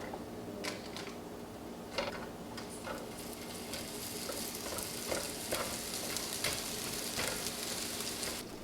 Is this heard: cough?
no